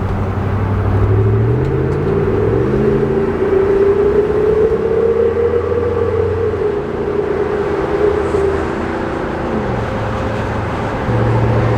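Engine drone heard from inside a V8 Toyota 4Runner with a Gibson exhaust on the highway, deep exhaust tones rising and falling as the revs shift, steady and fairly loud.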